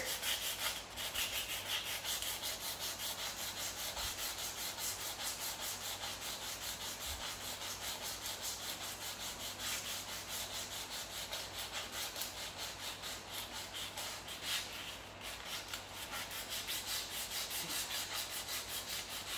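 Curb rash and scratches on a 2019 Nissan Maxima SL wheel rim are sanded by hand, giving a faint, steady scratchy rubbing that continues throughout with no talk.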